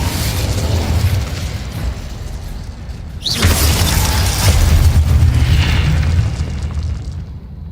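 A fiery Incendio spell blast in the Hogwarts Legacy video game erupts with a loud whooshing burst partway through, over a steady rumbling game backdrop, then roars on as sustained flame before easing off.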